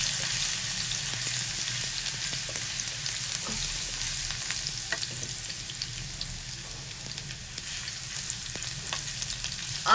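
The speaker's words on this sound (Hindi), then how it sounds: "अब इसमें हम शामिल करेंगे सबसे पहले लहसुन। ठीक है, इसको हम हल्का सा सौते कर लेंगे।" Garlic sautés in two tablespoons of hot oil over medium heat, a close, steady sizzle and crackle with occasional stirring taps throughout, without any talk.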